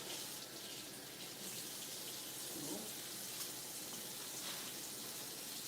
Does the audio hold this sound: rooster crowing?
no